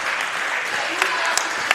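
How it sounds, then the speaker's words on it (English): Steady crowd applause fills a women's college basketball gym, a continuous wash of clapping with a few sharper claps standing out, and no talking. "The crowd will applause."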